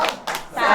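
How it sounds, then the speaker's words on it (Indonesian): A group performs a short rhythmic salute clap during a children's character-building session, giving a couple of quick, close hand claps followed by a brief vocal sound. "Tepuk salut."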